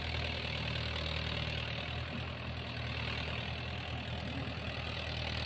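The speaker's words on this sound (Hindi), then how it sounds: "फ़िलहाल आप देख सकते हैं महिंद्रा 575 का परफॉर्मेंस" A Mahindra Yuvo 575 4WD tractor runs with a 9-tine cultivator in a very wet field, its engine a steady low drone heard from close by without a break and with no voices.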